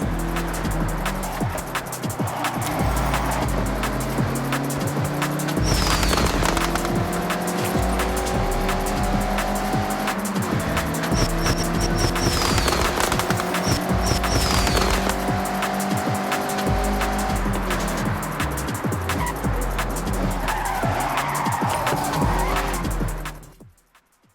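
A Mazda MX-5 sliding sideways through corners in a Forza Horizon racing game: a loud, sustained engine drone with shifting pitch under continuous tire squeal and skidding, holding steady for about twenty seconds before cutting off abruptly.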